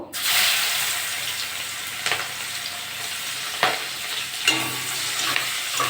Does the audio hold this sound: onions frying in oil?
yes